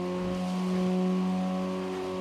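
A car in BeamNG.drive runs on a steady engine drone with a strong constant hum and harmonics, loud and close with no change in pitch, and no talking.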